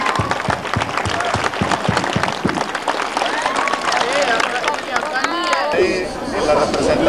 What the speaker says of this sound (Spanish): otorguémosle un fuerte aplauso a todos,